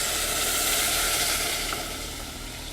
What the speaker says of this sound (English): now we're gonna add the water in here